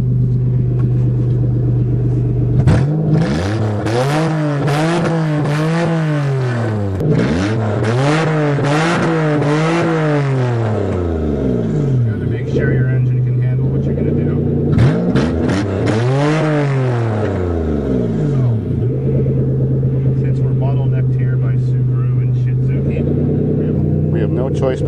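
Manual Toyota driven around a farm, its engine revving up and down in repeated rising and falling sweeps, loud and close, with a steady rumble between revs and a voice talking throughout.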